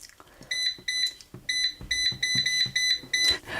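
Electronic beeps from an air fryer timer in quick pairs, repeating about eight times at a steady rhythm, bright and close, with faint handling noise between them.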